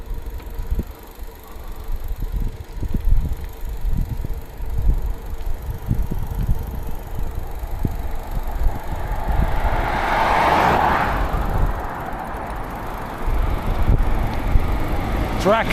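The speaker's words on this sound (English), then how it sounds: "Tractor with mower." A tractor pulling a mower drones steadily nearby in a hilly farm field, its engine running throughout with a rise as it works; someone speaks over it.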